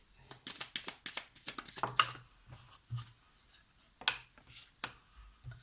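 Tarot cards are shuffled close by in quick, uneven bursts of crisp riffling and slapping, with short pauses between handfuls.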